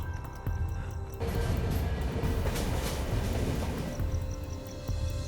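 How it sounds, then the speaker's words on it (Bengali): A train rolls along a railway track, a loud rumbling and clattering with metallic ringing and tonal squeals that swell and shift as it passes close by. "ও ট্রেন আসছে তো।"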